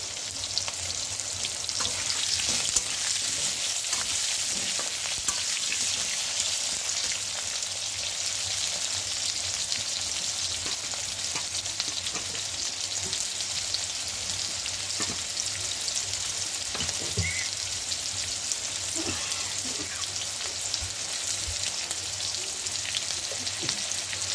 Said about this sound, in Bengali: এখানে আলুগুলো আস্তে আস্তে করে ভেজে নেবো